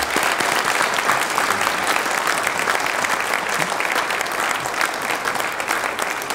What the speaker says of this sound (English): And we'll give one more round of applause to all of our honorees today.